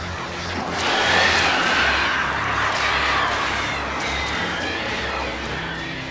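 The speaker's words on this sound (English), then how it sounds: "These birds are weird." Crows caw repeatedly in the Alan Wake video game, harsh calls rising over a steady rumbling ambient bed, fairly loud and near, with no speech.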